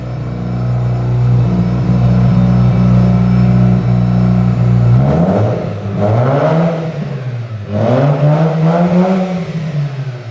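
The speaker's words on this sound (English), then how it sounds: "Give it a rev." A BMW E30 engine on a straight-pipe exhaust idles with a steady low drone, then gets revved close up in two loud rising-and-falling sweeps with rough, raspy exhaust note and no talking.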